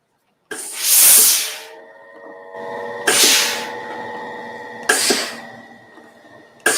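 A steam iron pressing fabric on a sewing project lets out three strong bursts of hissing steam, loud and close, each fading into a softer sustained hiss with a faint tonal hum underneath.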